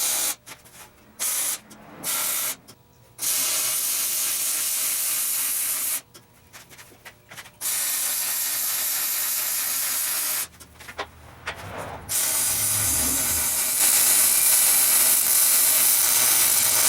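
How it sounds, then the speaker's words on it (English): MIG welding on the steel extension arms of a chop saw table, heard as several loud, steady crackling hiss bursts of varying length separated by short quiet pauses, up close with no talking. "let's go ahead and weld that up."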